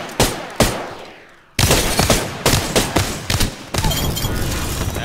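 Rapid bursts of gunfire from the video game Apex Legends, repeated loud shots and automatic volleys close up, with a short lull before a dense stretch of continuous firing.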